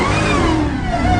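A whiny 6.2 liter supercharged Hellcat V8 in a Rumblebee SRT revs loudly and steadily, close up, with no voices over the engine.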